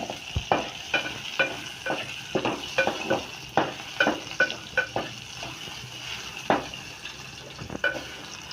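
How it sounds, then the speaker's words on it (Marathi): Crushed garlic cloves sizzle in hot ghee while being stirred, a steady frying hiss broken by repeated clicks and scrapes of a spoon against the pan, close up with no talking. "तूप छान गरम झाल्यावर त्या 10-15 पाकळ्या मी ठेचलेल्या आहेत लसूणच्या"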